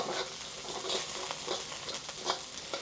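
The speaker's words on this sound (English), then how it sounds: "cook this for about 30 seconds until you start to smell the fragrance of the garlic" Garlic frying on low heat in a pan at the start of a beef and broccoli stir fry, giving a steady soft sizzle with light crackles and pops throughout, no voices.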